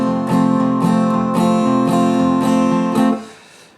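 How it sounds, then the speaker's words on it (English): Acoustic guitar strumming the rhythm of a song, steady loud chord strokes in a repeating pattern for about three seconds, then a ringing chord decays alone into quiet. "although the majority of the rhythm is going like this,"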